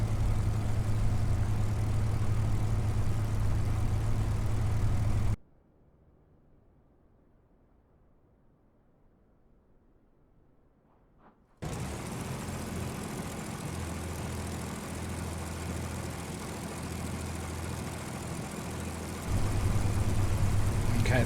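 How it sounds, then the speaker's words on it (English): A FlyingIrons MkIV Spitfire engine idles in a flight simulator game, a steady low droning hum that cuts out for several seconds of near-silence, then resumes as an even, continuous rumble. "There's a lovely sounding engine."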